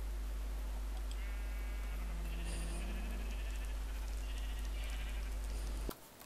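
Minecraft sheep, a pink one, bleating in a steady repeated call alone over a constant low hum, cut off abruptly near the end.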